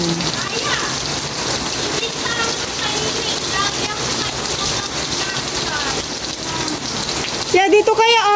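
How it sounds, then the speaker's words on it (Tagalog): Steady heavy rain pours down on a surface while a child bathes in it outdoors, a dense continuous hiss filling the scene, with a brief burst of voices near the end. "Maliligo na po siya sa ulan."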